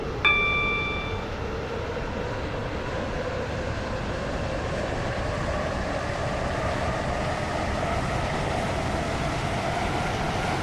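A Roblox Stepford County Railway train rumbles along steadily with a constant broadband roar, a brief chime ringing at the start.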